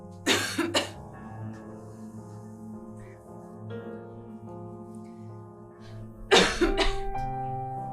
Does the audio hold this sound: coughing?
yes